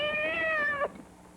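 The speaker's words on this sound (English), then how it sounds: "Cat. Just a cat." A cat in a radio drama gives one drawn-out, rising-and-falling meow, close and clear, that cuts off abruptly, followed by a quiet room.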